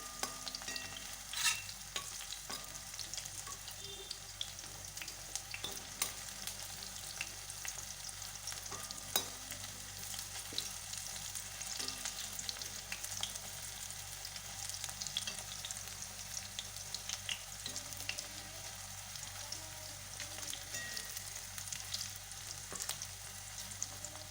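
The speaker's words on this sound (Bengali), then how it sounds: "কড়াইতে এগুলোও আমি ভেজে নেবো আগের মতো করে" Chips made from banana stem peel and banana flower peel fry in a wok with a soft, constant oily sizzle. The sizzle is broken by light scraping and stirring clicks, and it runs quietly throughout.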